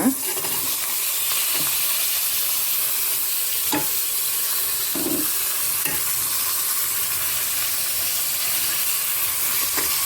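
Mixed vegetables and soya sautéing in oil with onions for pulao, a constant close sizzle and hiss with a few sharp spatula clicks and scrapes against the pan scattered throughout.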